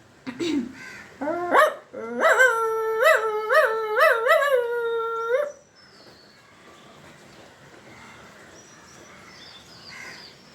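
A voice imitates a dog, giving a short run of yelping barks that ends in a drawn-out howl, followed by quiet.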